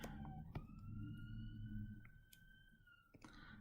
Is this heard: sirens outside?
yes